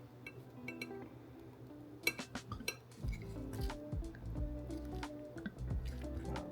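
Lettuce being tossed with plant-based Caesar dressing, making wet squishing and dripping sounds with occasional utensil clinks against a bowl, close and quiet over soft background music.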